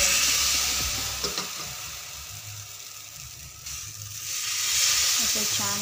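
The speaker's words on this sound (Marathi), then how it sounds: "आता आपण बॅटर पिळूया" Rice flour batter sizzling on a hot, oil-greased pan, a steady loud frying hiss close by that dips for a moment and then swells again, with faint scraping.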